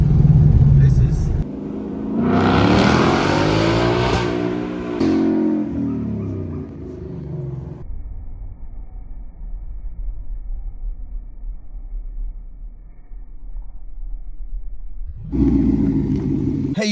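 A Ford Mustang S550 pulls away hard, its engine revving up in a rising roar that sweeps upward and then fades to a low rumble, with talk inside the car at the start and end.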